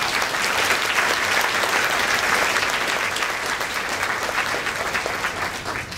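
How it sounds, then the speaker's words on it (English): Sustained applause from a graduation audience, a dense steady roar of many hands clapping that fills the whole stretch at an even level and fades only slightly at the close. "I do want to take a second and applaud your achievements"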